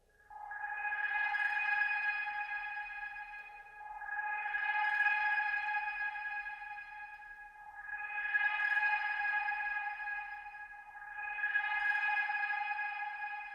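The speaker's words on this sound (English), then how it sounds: "Notice that that lower sweeping sound isn't coming in too much later into the actual sound now" A designed sound effect with a lower sweeping layer: four long, swelling tonal tones with bright harmonics that fade in and out in a slow, even rhythm, clean and without any voices.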